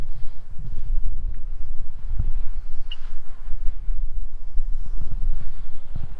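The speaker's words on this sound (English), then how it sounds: "It's a little windy today" Strong gusting wind buffets the microphone outdoors in Idaho's Treasure Valley, giving a continuous, loud low rumble with irregular surges and no speech.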